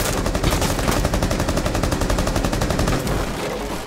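Rapid automatic gunfire in Rainbow Six Siege, a dense sustained burst of loud, evenly spaced shots that rattles on for several seconds before cutting off, with no voices.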